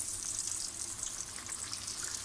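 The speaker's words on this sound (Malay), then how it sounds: "So kita start nak goreng ikan kita lah." A steady, hissing sizzle of fish frying in hot oil, with faint crackles throughout, fairly quiet and close.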